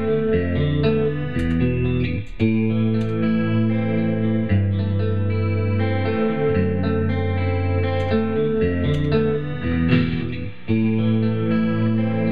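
A looping electric guitar riff from a Stratocaster drenched in chorus and distortion, steady and continuous with sustained chords and a brief dropout partway through, no voices.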